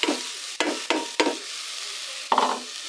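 Onions fry in a pan at home while cabbage is being steamed, a soft sizzle broken by four or five sharp scraping stirs, close by and with no talking.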